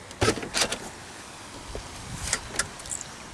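A Tesla Model S P85 powering up gives a couple of sharp mechanical clicks close by, then fainter clicks and soft whirring a moment later, with no talking.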